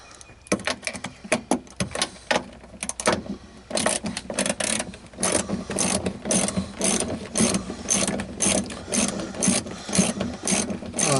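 Hand ratchet turning bolts while removing the boot trim of an RA40 Celica, with rapid, continuous clicking of the pawl in repeated close-up bursts of varying speed and no talk.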